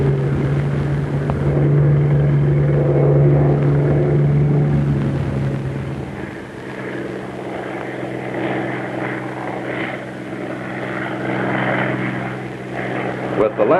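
A Bell P-39 fighter's piston engine drones steadily in flight, a loud, constant propeller hum that shifts tone midway, with a voice speaking over it.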